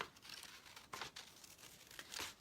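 Scissors snip through paper while cutting out butterfly wings, giving soft crinkly cuts in short bursts with brief pauses, quiet and close.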